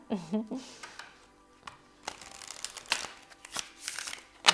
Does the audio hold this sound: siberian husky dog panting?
no